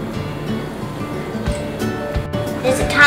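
White sugar poured into a mixing bowl while making fudge brownies, giving a steady, granular hiss that runs throughout, with faint voices in the background.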